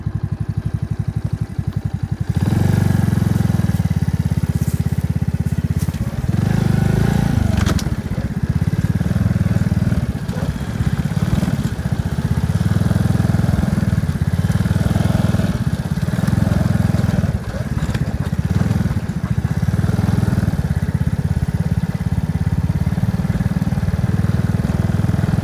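Altai Tank 50cc motorcycle engine running steadily outdoors in the mountains, a loud, close, continuous putter with a low throbbing rhythm and light mechanical clatter throughout, with no speech over it.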